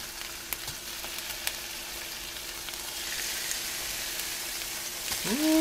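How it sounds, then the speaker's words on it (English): Steady crackling sizzle of fish fillets frying in a hot pan, growing a bit louder, with a brief clatter near the end. "Ooh, I love that sizzle."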